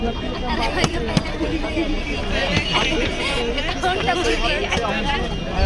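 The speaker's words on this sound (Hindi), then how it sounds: "भीड़ लगी।" A dense crowd of candidates at a Sitapur teacher counselling session chatters all around, a loud continuous babble of many overlapping voices with occasional nearby knocks.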